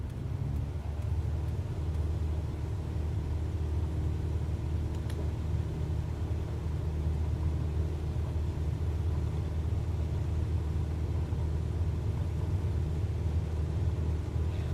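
A small airplane's engine runs at full power on the takeoff roll at KAPA, a steady loud drone with a deep rumble that holds evenly throughout, with no voices over it.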